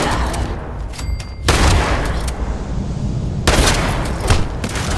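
Shotgun gunfire in the video game Fallout 76, several loud blasts and a dense crackle of shots running through the clip, with sharp bursts near the start and again toward the end.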